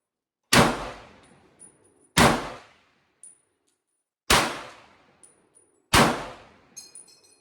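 An M1 Garand rifle fires four shots at 100 yards, each a sharp loud crack with a ringing decay, followed moments later by a faint metallic ping as the round strikes a steel target.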